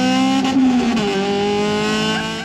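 A Honda Civic Type R engine revs loudly up close, its tone dropping and steadying as the car drives past, with a brief tire squeal.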